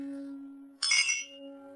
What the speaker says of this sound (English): Let's all raise a glass to Xu again.